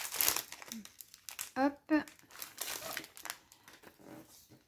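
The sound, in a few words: plastic sticker sheets being handled and crinkled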